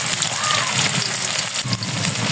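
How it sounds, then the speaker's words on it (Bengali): Vegetables with paneer fry in a hot pan, giving a loud, close, crackling sizzle that continues without a break. "ভাজতে থাকি, তারপর তরকারিটা ঢেলে দেবো"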